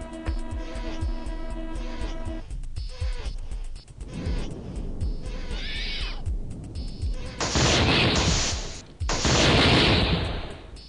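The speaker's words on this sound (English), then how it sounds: "Rocket launcher." A rocket launcher fires in the survival horror video game Alone in the Dark: The New Nightmare, producing loud booming blasts and roaring bursts among humming and crashing game effects, with no talking.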